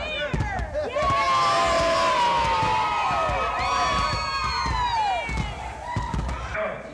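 Graduation party crowd for a high school class reunion cheering loudly and whooping, with sustained shouts and yells rising over scattered claps and bumps, voices overlapping throughout.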